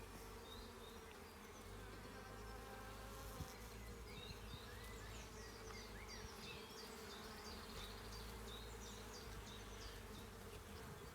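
Honey bees buzz steadily in an open hive during a routine spring inspection. The hum is dense and continuous, with individual bees whining past close by, and nobody talks.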